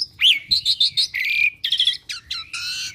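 A tame jalak suren, or pied starling, sings up close in a quick series of loud, varied whistles and chirps, clear and alone over a faint low background.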